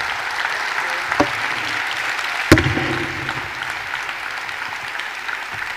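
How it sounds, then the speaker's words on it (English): Audience applause for a panel at the WCIT 2019 conference in Yerevan, a steady even wash of clapping throughout with a couple of sharper claps standing out. "One more round of applause for a wonderful panel."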